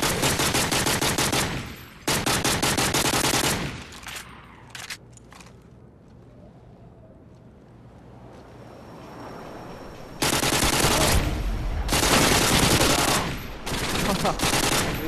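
Rapid bursts of AUG rifle fire in a Rangers search-and-destroy video game match, loud rattling automatic volleys separated by a quieter stretch with faint ambient game sound.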